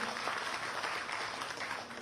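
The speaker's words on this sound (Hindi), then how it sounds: "एक बार जोरदार तालियां बजाकर उनका भी स्वागत करें" Audience at a party political rally applauding to welcome a state party official, a fairly quiet, continuous patter of clapping heard from a distance, with no voices over it.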